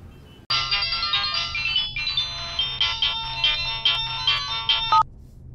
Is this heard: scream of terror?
no